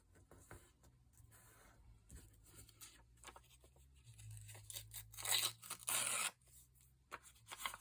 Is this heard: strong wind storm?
no